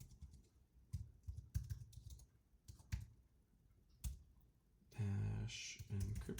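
Keystrokes on a computer keyboard during a Cisco switch configuration, appearing as scattered clicks and short bursts, with a louder dense run of rapid typing near the end.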